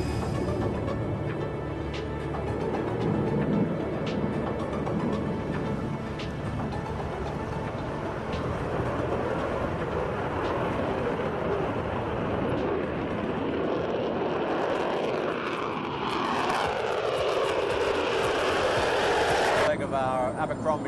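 Concorde jet airliner taking off, heard from inside the cabin as a loud, steady engine roar that builds over about twenty seconds, with a voice speaking over it.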